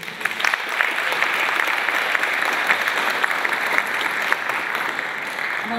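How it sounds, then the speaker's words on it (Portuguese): An audience at a university faculty event in Ribeirão Preto claps steadily and continuously, a dense wash of hands that holds strong throughout the stretch without voices. "Gostaria que também vocês a recebessem com palmas, a Larissa Porto."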